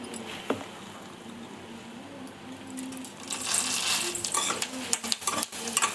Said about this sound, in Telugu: ఇలా బాగా ఫ్రై అయ్యాలి.